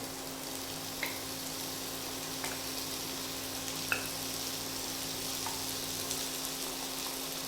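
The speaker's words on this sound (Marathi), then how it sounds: "आणि हे व्यवस्थित या कांद्याबरोबर परतून घेणार आहोत" Marinated bitter gourd and softened onion sauté together in a pan for a Maharashtrian sweet-sour dish, giving a steady, even sizzle with a few faint clicks from stirring, and no voices.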